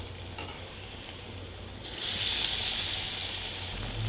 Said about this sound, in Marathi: एका ब्रेडचे चार तुकडे करून टाकलेले आहेत मी तळून घेते